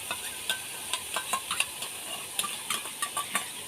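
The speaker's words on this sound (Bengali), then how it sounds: "এইগুলোকে এবারে আমি ভালো করে কষিয়ে নেব" A spoon scrapes and stirs ground spices with salt and curd in a hot pan, quick repeated clinks and scrapes over a soft continuous sizzle, close and fairly even.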